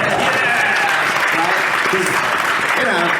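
Steady audience applause fills a convention Q&A session at SciFiWorld 2016, a dense continuous wash of many hands clapping with a voice speaking over it.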